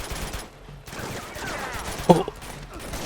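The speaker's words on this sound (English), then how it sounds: "This gunfire is very loud in my ears." Gunfire in the video game Uncharted 2: Among Thieves, set in Borneo, heard as scattered bursts of shots and impacts against a background of game noise, with one sharper crack standing out partway through.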